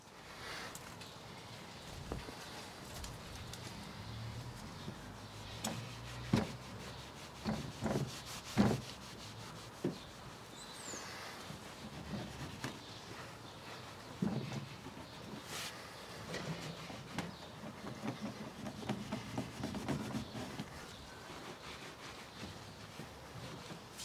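A car exhaust tip is rubbed and polished by hand with a soft, continuous scrubbing sound, punctuated by occasional light knocks and taps, close and fairly quiet throughout.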